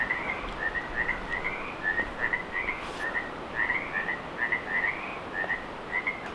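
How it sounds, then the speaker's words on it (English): Frogs croak at a pond outdoors at night, their short, rhythmic calls repeating steadily from start to finish at moderate distance over a low background hiss. "That is the frog pond behind me, and the frogs stopped just now."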